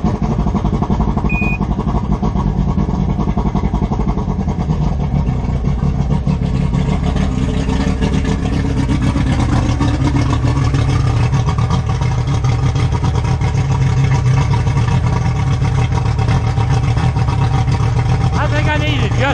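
A small boat engine idles and runs steadily after a hard start, with a carburetor needing adjustment; a loud, continuous mid-pitched putter that shifts slightly in tone, with a voice speaking over it.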